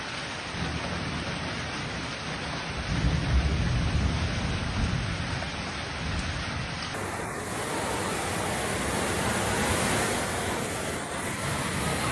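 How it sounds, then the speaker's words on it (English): A violent storm with rain and hail pours over Rome's cobbled streets as a loud, continuous roaring wash, with a low rumble swelling briefly near the start and the texture shifting midway. "Rome was hit a sudden and violent hailstorm that turned a cobbled streets into the city rivers"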